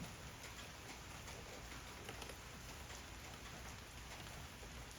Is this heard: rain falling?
yes